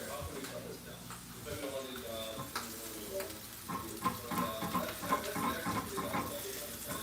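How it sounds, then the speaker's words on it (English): Butter bubbles and crackles steadily in a hot pan on the stove for a breakfast dish, a continuous frying hiss with scattered pops, while a person talks over it. "I'm waiting for the bubbling to slow down"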